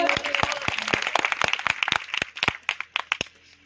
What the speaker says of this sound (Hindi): अच्छा लग रहा है तो एक बार जोरदार ताली बजाइए।